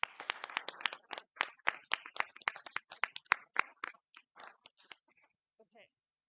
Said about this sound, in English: if you'd just join me in giving Joni a hand of applause